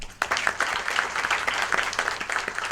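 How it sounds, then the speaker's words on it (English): A round of applause for a lecturer at a service tax study group meeting, a small audience clapping steadily at close range after a brief pause at the start. "We should have a round applause for sir."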